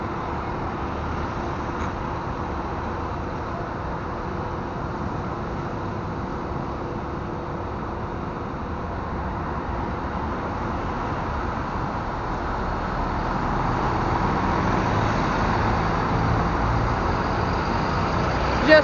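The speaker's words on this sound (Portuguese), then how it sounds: "Chegando o New G7 DD Rosa da Águia Branca" An Águia Branca New G7 DD double-decker bus pulls into the Rio bus station, its engine a steady low rumble among traffic noise that builds slightly toward the end, ending in a short sharp hiss.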